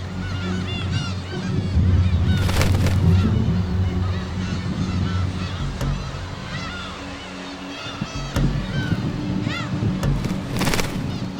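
Black-tailed gulls on a sea cliff nest call again and again with harsh, honking cries while one attacks an intruder. The calls come near and far over steady surf and wind, with loud bursts at intervals.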